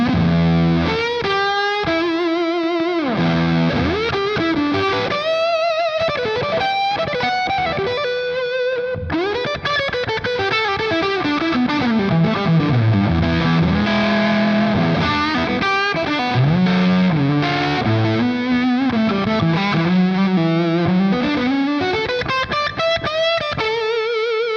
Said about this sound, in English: Last but not least, here is the fuzz.